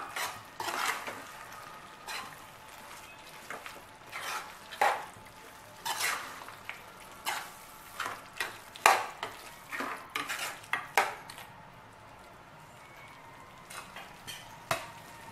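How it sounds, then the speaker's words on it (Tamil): Mutton curry masala being sautéed in a pan, with a spoon repeatedly scraping and clattering against the metal in irregular bursts over a quiet, faint background. "சேர்த்துட்டு நல்லா வதக்கி விட்டுடலாம்"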